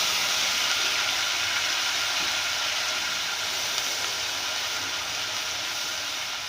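Onions browned golden frying together with garlic-ginger paste in a pan for aloo gosht, giving a steady, loud, even sizzle that holds without break throughout, with no talking.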